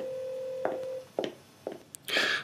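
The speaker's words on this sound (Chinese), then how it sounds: "我先打个电话" Telephone dialing: a steady dial tone cuts off, then several short key-press beeps follow at an uneven pace, quiet and close, with no talk.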